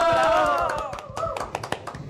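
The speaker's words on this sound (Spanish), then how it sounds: "También un fuerte aplauso." Applause for a singer performing songs with his grandson at a festival broadcast: a brief burst of clapping with a sung or cheering voice at the start, then scattered sharp claps that fade out.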